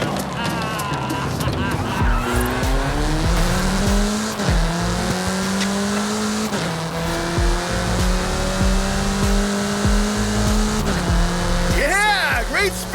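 A fast car in Forza Horizon 5 accelerates hard through repeated gear shifts with rising engine whine, ending in a brief tire squeal, loud and close, with a voice talking over it.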